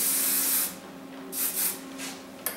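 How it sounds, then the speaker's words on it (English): A few short bursts of hairspray hiss close by, one long spray followed by several quick shorter puffs, with no talking. "Then you can just spray."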